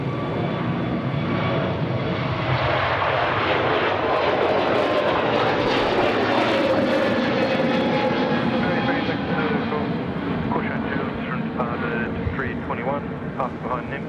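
A jet airliner lands on runway 34 right at Sydney Airport with a loud, sustained engine roar that swells toward the middle and then eases off, steady and close throughout.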